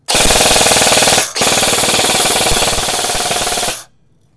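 A G&G ARP556 full-metal airsoft rifle fires on full auto: two loud, rapid mechanical bursts, one about a second long and a second lasting over two seconds, close and dry.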